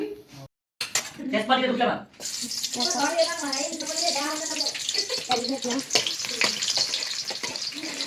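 Oil sizzling in a hot pan as cooking begins, a steady bright hiss close by with clinks of utensils, while someone talks over it.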